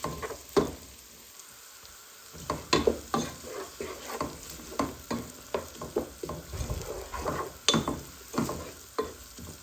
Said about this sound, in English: So fry this for a few minutes